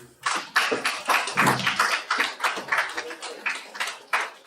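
Scattered, uneven clapping from a small conference audience at an infrastructure development conference in Kosrae, with distinct individual hand claps rising and fading in bursts rather than a full ovation.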